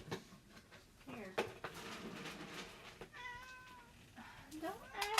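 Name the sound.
cat meowing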